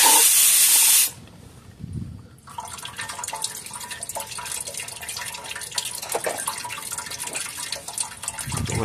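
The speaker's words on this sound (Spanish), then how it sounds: "Voy a dejar que tire un poquito el aceite" Transmission oil drains from the pan of a 2001 Toyota Sequoia 4.7 after its bolts are removed, a loud spraying hiss at first that drops to a steady close trickle and splatter.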